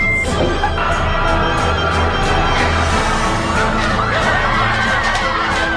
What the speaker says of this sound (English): The mad dash into a Walmart store knocked shoppers to the ground near Grand Rapids, Michigan at 5 in the morning.